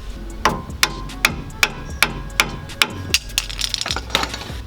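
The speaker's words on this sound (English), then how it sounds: "So now I'm just hammering the opposite side." Hammer blows on the rear wheel bearing assembly of a Toyota Tacoma, about a dozen sharp metallic strikes at a steady rhythm, close and loud, with no talking.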